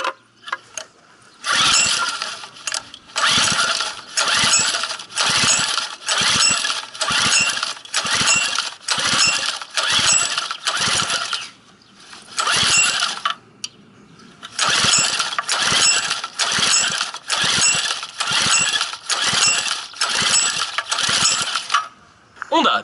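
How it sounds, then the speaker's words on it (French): Honda engine for a bike on a starting test, cranked in a long run of rapid, loud repeated pull strokes, a short pause, then another burst of cranking bursts, close up with no talk. "Honda, test démarrage numéro 1."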